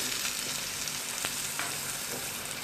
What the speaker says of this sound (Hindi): अब इसमें मैं ये कॉर्न्स ऐड करने जा रही हूँ